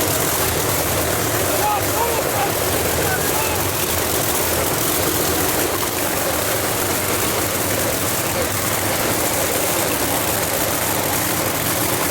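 The engine of a 1969 Chevrolet Camaro no-prep drag car fires up and runs as a loud, steady, dense roar for the whole stretch, close by and with no break.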